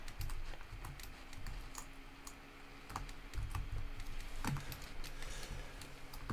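Someone types steadily on a computer keyboard in an apartment, a fast, irregular clatter of close key clicks continuing for several seconds without talk.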